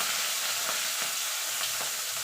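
Rohu fish pieces fry in hot oil with a steady, dense sizzle and a few soft stirring scrapes, close and alone without talk.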